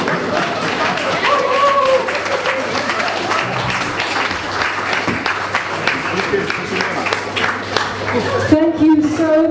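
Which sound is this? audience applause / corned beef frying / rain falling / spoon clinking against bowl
audience applause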